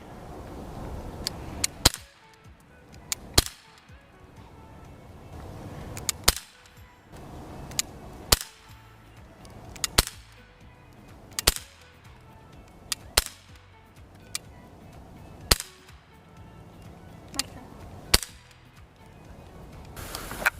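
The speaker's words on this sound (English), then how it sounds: "Here we go with the Glock 19 Gen 4. First shot." A Glock 19 Gen 4 BB pistol fired outdoors, with a series of about a dozen sharp, snappy cracks spaced a second or two apart over light wind and background noise.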